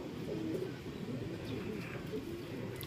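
Racing pigeons coo softly and repeatedly at the loft during a race return, low murmuring calls layered over faint background noise, with no talking.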